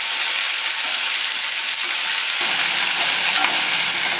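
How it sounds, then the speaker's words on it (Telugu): Okra (ladies finger) pieces stir-fry in hot oil with salt, a loud, dense, unbroken sizzle close by, growing slightly fuller partway through, with no voices. "వేసుకొని ఫ్రై చేసుకోవాలి"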